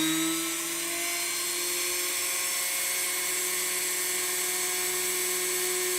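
A drill bores holes through thick metal stock lubricated with cutting fluid, giving a steady, sustained high-pitched whine that holds nearly constant for several seconds.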